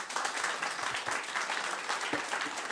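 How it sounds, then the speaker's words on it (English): Audience applause at a council committee meeting, a dense, even wash of many hands clapping at moderate distance for a few seconds, with no speech over it. "if you could please hold the applause so that we can move through the section"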